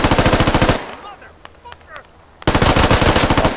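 Loud machine gun fire in the tactical shooter Squad comes in two long rapid bursts of evenly spaced shots, one at the start and one at the end, with a quieter gap between them holding faint distant shots and game sounds.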